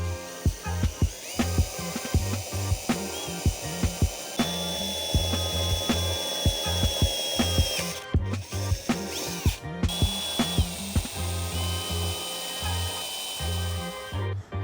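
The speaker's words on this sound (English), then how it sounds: "do the rest of the holes with the 1/8 inch drill bit" Power drill boring a series of holes with a 1/8 inch bit while fitting a Sherpa Grizzly roof rack to a Toyota Tundra: repeated short whirring bursts with a rising whine, separated by brief pauses and clicks, close and fairly loud.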